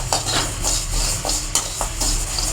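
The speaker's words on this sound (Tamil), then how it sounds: "சோம்பையும் நல்லா வறுத்து எடுத்துடலாம்." Fennel seeds dry roasting in a pan over low heat, stirred with a utensil that scrapes and clinks against the metal in a steady rhythm of close, fairly loud strokes under a faint sizzle.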